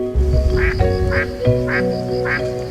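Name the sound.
spot-billed duck quacking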